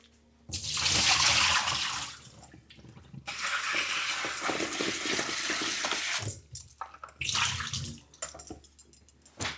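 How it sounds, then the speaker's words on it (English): Running water in a kitchen sink while wash water is drained, with long bursts of gushing, splashing flow, brief pauses, and a few clinks of dishes. The sound is close and loud, and no one speaks. "the next thing I'm going to do, I'm going to drain this water actually"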